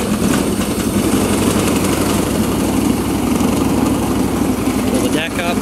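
A John Deere 316K lawn tractor running loud and close, its engine held at a steady, rather high idle with a continuous buzzing drone throughout, a voice briefly heard over it.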